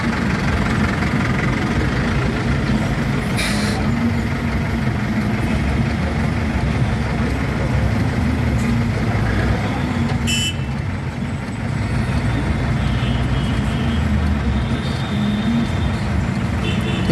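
A car's engine running steadily at low revs during night-time driving practice, a continuous close rumble that stays level throughout with no talking over it.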